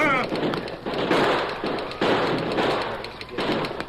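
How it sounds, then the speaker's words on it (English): Gunshot effects in an old-time Western radio drama, a series of sharp percussive bangs at a steady pace, loud and close, mixed over galloping action music and a speaker calling out. "Use your gun, Tonto."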